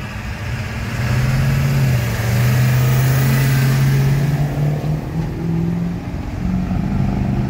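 A 1999 Ford F-550 pickup conversion with a 7.3 Powerstroke diesel and 350,000 miles revs up close by, its deep engine note rising into a sustained rev before easing back to a rumbling idle.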